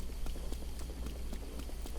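A herd of horses grazing in a wet field in Breath of the Wild sends out a run of light, evenly spaced hoof clops over steady rain noise.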